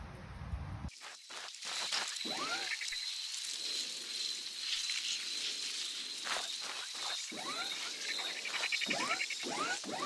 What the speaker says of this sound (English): I also added some insect sound with randomized 3D positioning automation on top of that, to make the environment more vibrant and consistent.